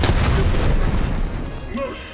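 Booming gunfire from a Call of Duty: Black Ops Cold War match on PS5, a heavy burst of shots and blasts up front that fades into quieter rumble.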